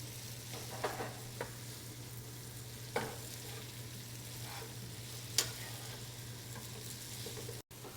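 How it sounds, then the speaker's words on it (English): Bucatini is tossed in rendered pancetta fat in a pan, giving a faint, steady sizzle with a few soft clicks and scrapes of stirring. A low constant hum runs underneath, and no one speaks. "We're going to coat our bucatini with the fat from the pancetta."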